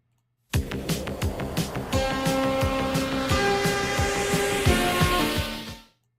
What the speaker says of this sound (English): it's the Blockbuster video intro